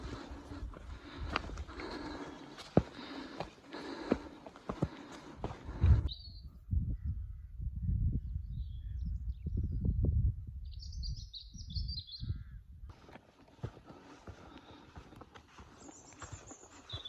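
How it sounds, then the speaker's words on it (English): Occasional short bird chirps in the distance on a countryside walk in Dentdale, with low scuffing footsteps or hoof-like clops underneath. "Not a sound, just the birds."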